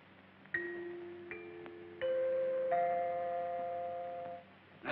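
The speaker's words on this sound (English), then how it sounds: "When you hear the sound of the chime, the time will be 12 o'clock, midnight, Pacific Standard Time" Radio time signal chime marking midnight, a series of clear bell-like tones struck one after another and ringing on in layered sustained notes, with a sharp click at the end.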